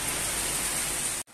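Steady, dense hiss of rain falling, even and unbroken, cutting off abruptly at the very end.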